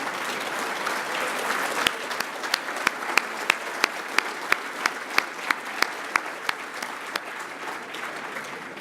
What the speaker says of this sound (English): Can all the men stand up and give a round of applause to the women?